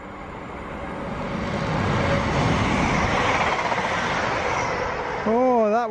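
Train passing through a West Midlands railway station platform, a rising rumble and steady rolling clatter that builds and holds, with a voice and a wavering tonal sound entering at the end.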